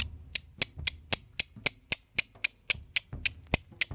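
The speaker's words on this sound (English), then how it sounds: "scrape off a tiny bit of the steel with the stone" Flint stone struck against a steel striker to throw sparks, outdoors in bright sunlight; about fifteen sharp, clicking scrapes land in a quick, fairly even rhythm, close and crisp with no talking.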